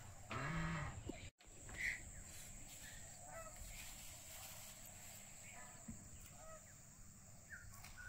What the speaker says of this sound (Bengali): হাঁসগুলো আওয়াজ দিচ্ছে, দেখো।